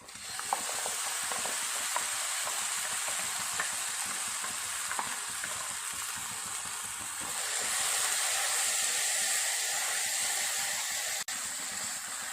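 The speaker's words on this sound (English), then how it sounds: "Since our masala is frying" Constant sizzling of masala spice paste frying with onions in a hot pan for taro root curry, with scraping and stirring clicks throughout; the sizzle grows a bit brighter partway through.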